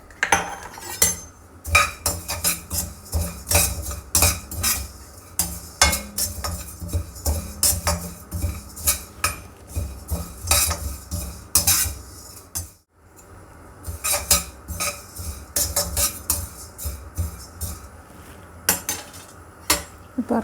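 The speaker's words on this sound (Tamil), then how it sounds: "ஜீரா, சோம்பு ரெண்டுத்தையும் ஒன்றா வறுத்துக்கலாம்" Cumin and fennel seeds dry roast together in a pan for homemade garam masala, stirred with a spoon in steady, close metallic scrapes and clinks that continue for about twenty seconds with a brief pause midway, no talking.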